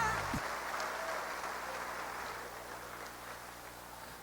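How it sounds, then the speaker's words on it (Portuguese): A church congregation applauding during a Portuguese-language worship service, dense broadband clapping sustained throughout, with a low steady musical drone underneath. "vamos aplaudir ao Senhor nosso Deus."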